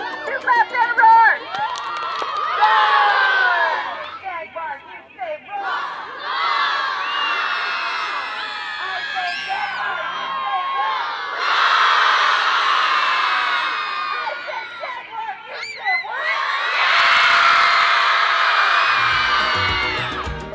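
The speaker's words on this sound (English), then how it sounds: "Two claps and a roar." A large crowd of children at a school assembly cheers and shouts in several long, loud roaring bursts, with brief claps and pauses between them.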